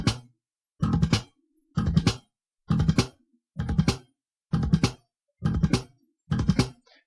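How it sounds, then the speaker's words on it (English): Slap bass plays fast machine-gun triplets, each burst a tight cluster of thumb slap, left-hand click and pluck, repeated in eight evenly spaced groups with silence between them, close and dry with no voices. "This is something that I call a machine gun triplet."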